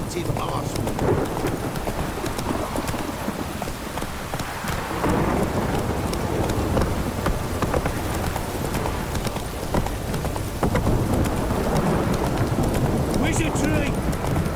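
Steady heavy rain and rolling thunder from a stormy scene in the video game The Witcher 3: Wild Hunt, loud and continuous throughout, with hoof clip-clops and a voice speaking over the downpour.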